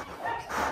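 A single brief, close bark from a Belgian Malinois guard dog, sounding muffled.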